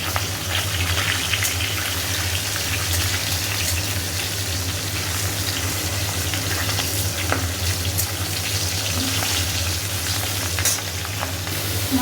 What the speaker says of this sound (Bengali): মাছ ভাজিয়ে দিয়ে দিয়েছি এখানে।